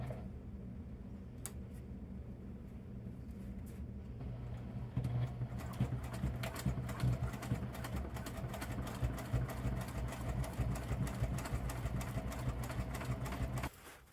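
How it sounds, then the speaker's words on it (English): A sewing machine runs a hem along the edge of a homemade dry bag, its fast rhythmic ticking growing louder midway and holding steady before stopping abruptly near the end. "Now I'm going to run a stitch along this edge and create the hem."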